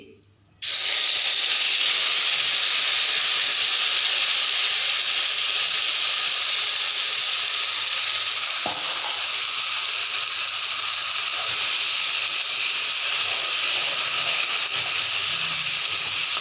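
Ground taro paste with coconut, ginger and green chilli sizzles in a pan over low heat, starting abruptly after a brief quiet moment and holding a loud, steady frying hiss with one faint knock midway.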